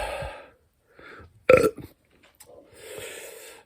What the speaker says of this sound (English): Not a hiccup, but a belch.